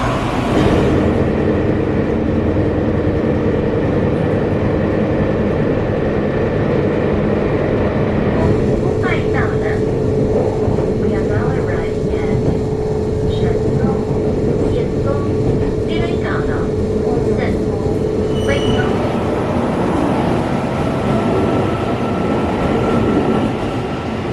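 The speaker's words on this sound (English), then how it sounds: "there's a freight train going down the switcher" A freight train rumbles past continuously on a line in Taiwan with metallic clanks, rattles and a faint squeal, heavy and steady for the whole stretch, with voices faintly mixed in.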